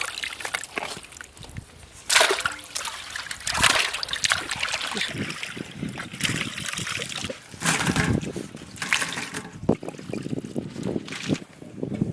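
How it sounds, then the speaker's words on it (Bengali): Large prawns being washed by hand in water for a masala curry, with uneven splashing and sloshing that rises and falls in bursts, close and moderately loud. "মাছগুলো আমরা ধুয়ে নেবো ভালো করে"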